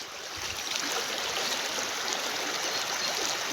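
Heavy rain runoff from village fields near Surai surges by in a constant broadband wash of rushing water, close and even throughout, with no speech over it.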